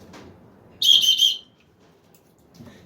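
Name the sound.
emergency whistle from preparedness kit being blown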